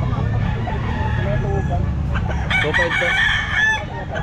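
Sweater gamefowl rooster, about eight months old, crowing and clucking close by, with a loud crow near the end and someone briefly speaking over it.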